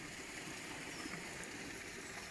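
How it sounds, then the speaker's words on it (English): Water runs in a levada channel after rain, a faint, steady broadband rush and trickle heard from a short distance with no talk. "We've got lots of running water."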